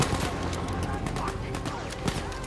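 Sten submachine gun in Battlefield V fires in dense rapid bursts amid other gunfire, loud and close throughout, with a voice talking underneath.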